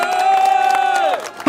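A crowd at a rally over the Goodyear Amiens Nord factory closure cheers and shouts loudly, with a sustained whoop or cry standing out over scattered clapping before it drops off briefly and surges again.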